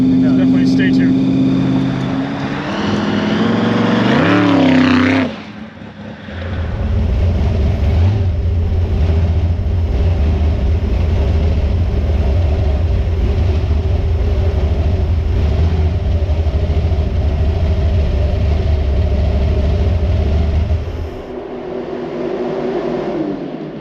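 Supercharged 496 cubic-inch big-block V8 in a 1956 Chevrolet 150 street car, heard revving hard then settling into a steady, loud, deep engine drone while driving, with a quieter idle at the end; a voice talks over it.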